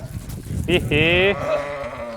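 A sheep bleats loudly nearby, a couple of wavering cries in quick succession, with people talking quietly in the background.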